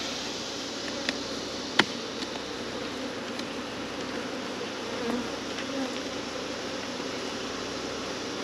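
Honeybees droning steadily around an opened hive during a summer inspection, a dense even hum close by with a few faint knocks of equipment.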